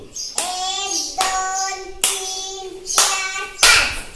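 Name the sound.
child clapping hands five times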